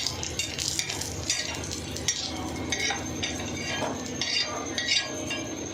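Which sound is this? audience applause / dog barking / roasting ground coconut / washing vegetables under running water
roasting ground coconut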